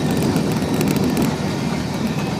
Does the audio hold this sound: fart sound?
no